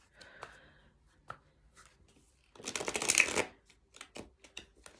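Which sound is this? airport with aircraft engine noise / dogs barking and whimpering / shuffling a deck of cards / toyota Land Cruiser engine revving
shuffling a deck of cards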